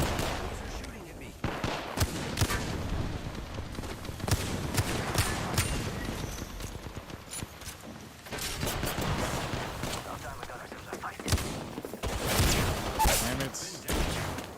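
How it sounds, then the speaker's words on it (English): Gunfire in Apex Legends, rapid bursts and single shots crackling near and loud in irregular clusters, with brief pauses, speech faintly mixed in. "They're shooting at me."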